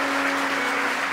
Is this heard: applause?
yes